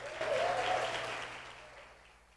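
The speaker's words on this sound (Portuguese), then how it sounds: "Aplauda o nome de Jesus aí, meu irmão." A church congregation applauding during a service, a swell of clapping from many hands that rises quickly, then fades out over a couple of seconds, fairly soft and somewhat distant.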